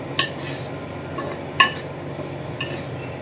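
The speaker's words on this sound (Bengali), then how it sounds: "আর এর মধ্যে এই মাখিয়ে রাখা চালটাও দিয়ে দিচ্ছি। একটু নেড়ে নিয়ে এর মধ্যে জল দিয়ে দেব।" A spoon stirring rice with cashews and raisins frying in a pan, making a few distinct metallic scrapes and clinks at uneven intervals over a quiet, faint background hiss.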